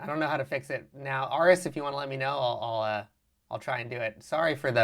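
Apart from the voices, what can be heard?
No distinct noise like a dog, phone or traffic.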